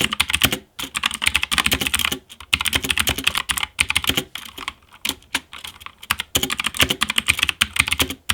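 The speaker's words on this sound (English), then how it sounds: "here's a quick sample of me typing on the keyboard to see how absolutely glorious this keyboard sounds" Typing on an Asus ROG Strix Scope NX TKL mechanical keyboard: dense, rapid bursts of crisp clacky keystrokes with brief pauses between runs, close and clear with no talking.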